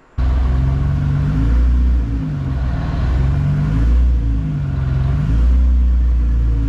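Nissan GT-R pulling up onto car ramps, its engine a loud, steady low rumble with slight rises in revs as it creeps forward, close by and with no talking.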